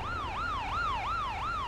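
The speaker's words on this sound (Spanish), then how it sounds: "Mira, sí, las patrullas tienen sonido." A police patrol car siren wails in the Bus Simulator Indonesia game, steady rising-and-falling sweeps repeating about every third of a second, loud and continuous with no talking.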